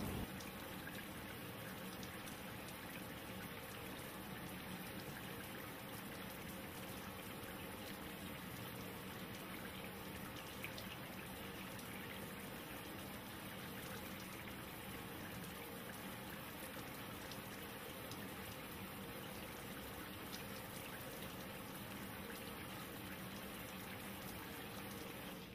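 Water runs steadily from a sink faucet during a surgical hand and arm scrub, a constant faint rushing and trickling that stays even and unbroken throughout with no talk.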